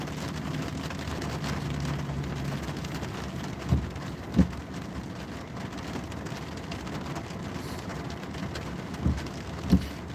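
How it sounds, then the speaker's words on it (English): Steady rain falls outside during a lull, a continuous hiss of drops on surfaces with a few brief louder thumps or knocks standing out over the wash. "There's a lull in the rain."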